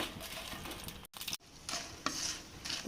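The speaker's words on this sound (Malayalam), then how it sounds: "ഇതിലേക്ക് നമുക്ക് മുളക് കൊടുക്കാം മുളകിട്ട് നല്ല പോലെ ഒന്ന് നമുക്ക് വറുത്തെടുക്കാം" Dried red chilies fry in hot coconut oil for an onion-tamarind-chili dish, a close bubbling sizzle with scraping stirs, briefly cut off twice before resuming.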